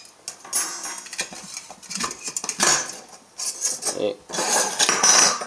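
Metal parts of a wood gas stove are pulled from a small drawstring pouch, giving a run of bright clinks and rattles of metal pieces knocking together at close range, with a brief spoken word.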